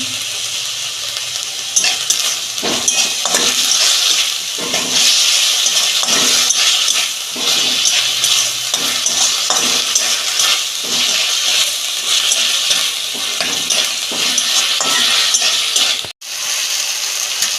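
Tomatoes and salt going into sizzling fish curry masala in a pan, a loud, dense frying hiss with repeated stirring scrapes and knocks of a spoon, close up and continuous.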